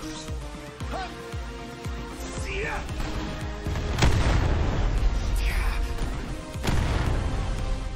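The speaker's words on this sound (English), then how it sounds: "The rocket launcher works well." Rocket launcher fire in Final Fantasy XV, with heavy booming blasts and a dense rumbling barrage that builds and swells over several seconds, overlaid by game music and effects.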